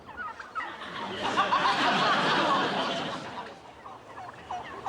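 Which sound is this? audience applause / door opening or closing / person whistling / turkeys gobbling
turkeys gobbling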